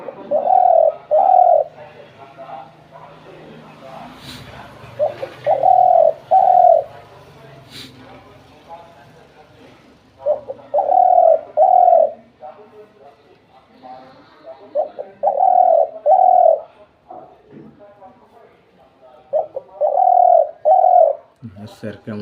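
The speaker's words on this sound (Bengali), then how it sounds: "স্যার কেমন ডাকবে পাখি" A dove or pigeon kept by a bird farmer coos in repeated paired phrases, close and clear, each pair returning every few seconds with faint talk and small noises between.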